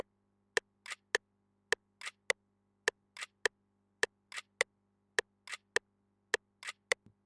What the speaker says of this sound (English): I put a clap under it.